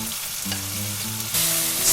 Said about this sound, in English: Now add kimchi into the pan.